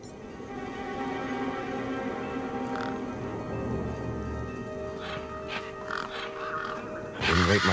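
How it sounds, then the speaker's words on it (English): Several birds caw harshly near a truck in the video game Beyond a Steel Sky, scattered raspy calls rising over a steady droning background and growing louder and busier toward the end. "Those birds weren't going to let me anywhere near the back of the truck."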